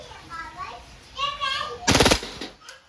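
WE Hi-Capa T-Rex airsoft pistol firing on full auto, a single short loud rapid burst of clacking shots, with a voice heard talking just before it.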